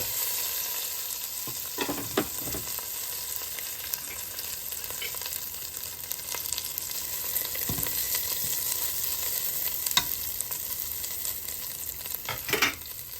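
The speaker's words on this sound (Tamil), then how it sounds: "இந்த மல்லியிலைக்கு மேலே இந்த தாளிவத்தை கொட்டிக்கொள்ளுவோம்" Hot tempering poured over coriander leaves for yogurt rice sizzles continuously while a spoon stirs and scrapes at intervals, close and fairly loud, with no voices.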